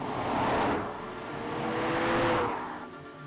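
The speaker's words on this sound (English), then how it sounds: "one flyby and you realise the first Abarth crossover is still very much a rumbling" An Abarth 600e, the brand's first crossover, fitted with speakers that give it a combustion-style rumble, flies past with a rumbling, whirring engine note that swells twice, loud and close, then fades.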